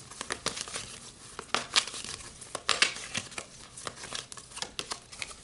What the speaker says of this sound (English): let's pull a planet card here